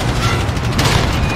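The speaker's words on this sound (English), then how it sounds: "Enemy precision airstrike inbound. What an airstrike." A loud, dense rumbling airstrike in the Modern Warfare video game, continuous booming blasts and gunfire-like crackle filling the short stretch with no clear speech.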